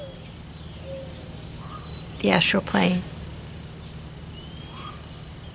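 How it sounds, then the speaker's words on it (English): Outdoors, a raven gives two harsh, hoarse calls in quick succession, fairly close, while someone speaks quietly around them and other birds chirp faintly. "It's Mr. Raven. He's mentioning there's someone walking down the road"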